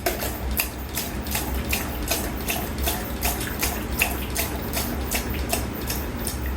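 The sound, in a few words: Delco Rochester wiper motor running low speed with washer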